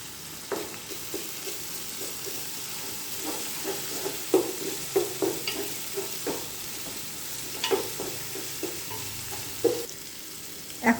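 Carrots go into a frying pan for coconut milk pulao, sizzling faintly with repeated sharp scrapes and stirs from a spatula, close by and without talk.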